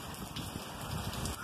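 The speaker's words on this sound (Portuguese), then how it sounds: "Já volta a chover aqui em Roda Velha." Rain falling in Roda Velha after a dry spell, a soft, steady patter of drops on surfaces, faint and continuous with no voices.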